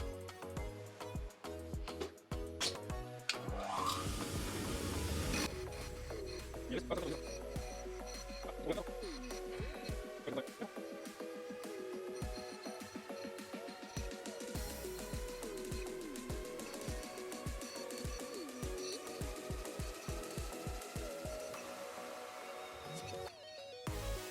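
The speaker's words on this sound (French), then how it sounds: "je vais les passer un coup à la brosse métallique juste derrière là" A metal wire brush works over small Nordic gold medallions, giving a long run of rapid rhythmic scraping strokes with a whining mechanical tone, close and fairly quiet, no speech.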